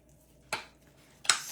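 A spoon or utensil knocks against a bowl while a cheese and cream cheese tortilla mixture is stirred, two sharp clinks about three quarters of a second apart over a quiet background.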